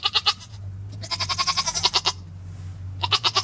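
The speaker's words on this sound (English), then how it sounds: "These guys aren't going to shut up." Goats bleating loudly in repeated, wavering bursts, several calls in quick succession with a short pause between groups.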